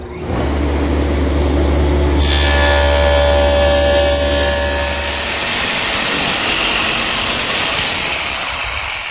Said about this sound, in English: All of those are cut at the table saw.